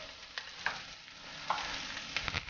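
Curry leaves crackle and sizzle in hot oil while making a Kerala pepper crab roast, a steady close frying hiss with a few sharp pops and spatters, no voices.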